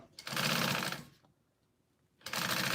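A Juki industrial sewing machine runs in two steady, fast stitching bursts, near and loud, with a short quiet gap between them.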